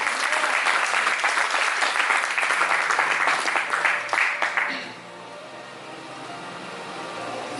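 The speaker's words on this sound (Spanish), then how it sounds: "Y le doy palmas." A church congregation applauds loudly in a dense, sustained wash of clapping that suddenly stops midway, leaving a faint roomy hush.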